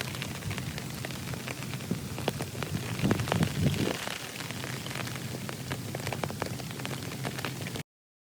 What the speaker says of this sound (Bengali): বৃষ্টির ঝমঝম শব্দ